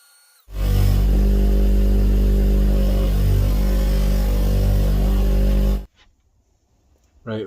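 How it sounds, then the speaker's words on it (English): A spindle sander runs at 400 grit on a cherry wood slingshot, a loud steady motor whir for about five seconds before it cuts off and winds down to near silence. "Now I'm going back to the spindle at 400 to just finish off that 400 grit finish"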